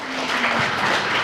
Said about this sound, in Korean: 박수 나와야 돼요.